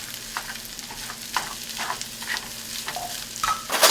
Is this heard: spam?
yes